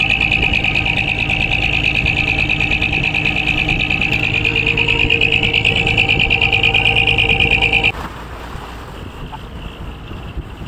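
A boat engine running at sea gives a loud, steady droning whine with wind noise, then drops abruptly to a quieter rumble near the end.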